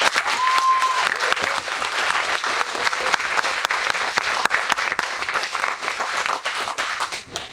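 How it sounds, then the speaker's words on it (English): A large audience at a nursing pinning ceremony gives a warm round of applause for the graduates' children, dense clapping holding steady throughout, with a brief tone near the start and faint voices mixed in. "Let's give a big round of applause to all the graduates' children"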